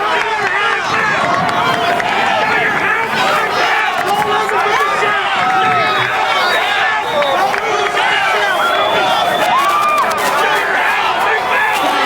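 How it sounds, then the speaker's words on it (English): A home crowd roars and cheers continuously at a 2007 Glassboro versus Paulsboro high school football final after a touchdown run, loud and sustained with whistles and shouting layered over a commentator's voice. "This Glassboro crowd has erupted."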